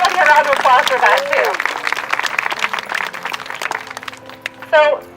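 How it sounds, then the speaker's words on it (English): Audience applause at a talk about a butterfly sculpture memorial, a crowd clapping steadily and fairly close, mixed with chatter and voices over it and a louder voice near the end. "let's give him a round of applause for that"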